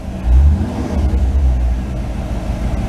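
A car engine with a freshly repaired MSD distributor runs close by, a loud low rumble that swells in a brief rev early on, then settles into a steady running drone with no voices.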